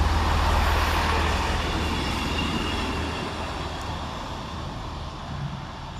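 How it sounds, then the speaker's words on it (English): A Northern class 158 diesel unit, 158851, rumbles into Thornaby station, a loud low drone and rolling rail noise that gradually eases as it slows. "sees 158851 arrive, with the 1431 Northern service from Saltburn to Bishop Auckland"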